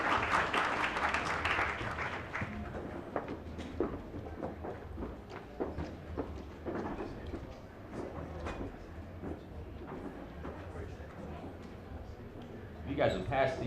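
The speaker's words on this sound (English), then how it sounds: "If you want to give a round of applause as they're coming to the front of the room." Audience at a candidate forum claps as candidates walk to the front of the room, a loud burst at first that thins to scattered claps and shuffling, with voices talking and a final swell at the end.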